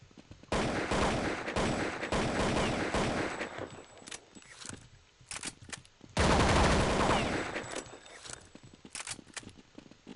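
Sustained bursts of automatic gunfire in Counter-Strike on a stadium map, two long dense volleys separated by scattered single shots and brief quieter gaps, loud and close.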